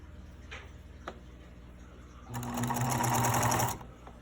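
A sewing machine stitches fabric in a single loud burst of rapid whirring and ticking lasting about a second and a half, preceded by a few quiet clicks in a still room.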